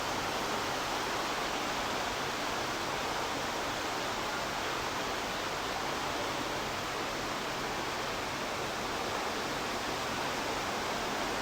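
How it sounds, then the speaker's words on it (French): A loud waterfall in Umeda, Osaka pours with a steady, dense rush of noise that holds even and unbroken throughout, with no voices over it. "Sympa mais bruyante la cascade par contre."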